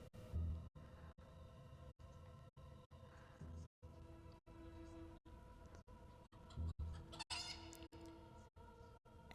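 Chickens cluck in the video game Fable 3, a string of short, fairly faint clucks and fowl calls repeating in a choppy rhythm against a low game background, with no talking.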